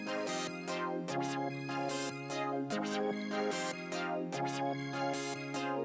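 An FL Studio synth melody playing over a chord progression, with bright repeating lead notes above sustained chords that change about every second and a half, steady and loud with no talking.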